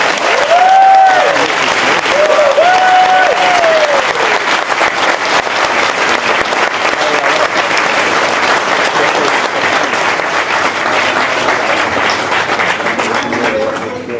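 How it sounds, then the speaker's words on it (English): Audience applause at a bike shed show event, sustained dense clapping filling the room at steady loudness for the whole stretch, with a few faint voices and a brief whistle-like tone near the start. "Feel free to applause."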